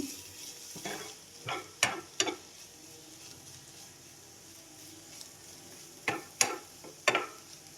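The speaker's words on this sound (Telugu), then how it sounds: "ఇలా కలుపుతూ ఉండండి" Dry fruits frying in ghee are stirred in a pan, giving a soft steady sizzle with several scraping clinks of the spoon in two short clusters, close and fairly quiet.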